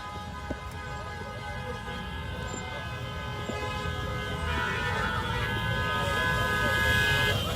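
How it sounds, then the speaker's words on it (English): Car horns blast continuously at the Lekki Toll Gate during an End SARS protest memorial, several overlapping sustained tones over the rumble of traffic and the murmur of the crowd, growing slightly louder toward the end. "But still here we have youths blasting their horns"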